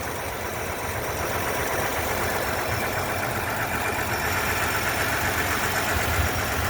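A 1955 Willys Jeep four-door wagon's Super Hurricane engine with a single-barrel Carter YF carburetor idles steadily and close up, a continuous even rumble with faint mechanical ticking and no speech.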